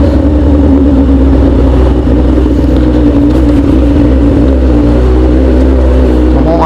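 Suzuki GSX-S motorcycle engine with an electrical fault running rough at a steady loud idle-to-fast-idle, a continuous close-up rumble with uneven pulsing and no speech.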